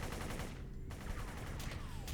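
Raider engineers open fire in City of Heroes, a dense, continuous rattle of rapid game gunfire filling the whole stretch with bursts and brief zaps layered over it.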